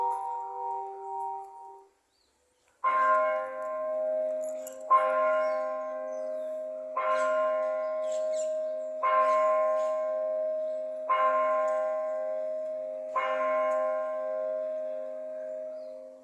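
Steady peals of the bell of St. George Parish Church in Barbados ringing for 6 o'clock, about six evenly spaced strokes with long ringing decay, sounding moderately close and alone.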